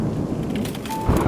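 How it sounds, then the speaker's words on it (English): In the video game Love and Deepspace, thunder rumbles low and heavy beneath a dense hiss of pouring rain, a brief loud burst of storm noise lasting just over a second. "Here comes the downpour."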